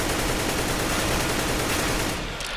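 Rapid sustained automatic gunfire from a rifle in the game CS:GO, a loud dense burst held down for about two seconds before tailing off.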